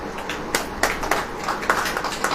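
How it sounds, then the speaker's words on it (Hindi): Scattered hand claps from a church congregation at a Hindi-language prayer service, several sharp claps spread unevenly over a couple of seconds against a soft room background, with no talking. "ताली बजाइए।"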